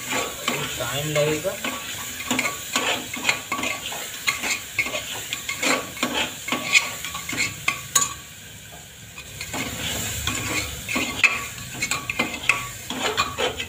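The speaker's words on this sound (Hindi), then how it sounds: "दोस्तों सब्जी को भून रहे हैं" Vegetables stir-fried in a pan on a home stove, with steady sizzling and repeated scraping and clinking of a spatula against the metal; someone speaks briefly.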